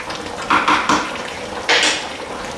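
A spoon stirs oxtail and lamb stew in a metal pot, a few close scraping, clinking strokes against the pot in two short bursts over a steady background.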